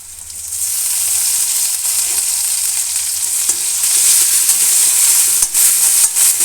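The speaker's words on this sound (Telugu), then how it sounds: "ఇప్పుడు మంచి ఫ్లేవర్ కోసం అని మనము ఇందులో జింజర్ పేస్ట్ వేస్తున్నామండి, అంటే అల్లం వెల్లుల్లి పేస్ట్" Ginger garlic paste sizzles and fries in hot oil with golden browned onions, a loud continuous crackling hiss with occasional stirring scrapes, no talking.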